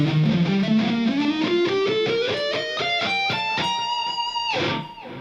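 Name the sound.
electric guitar sweep picking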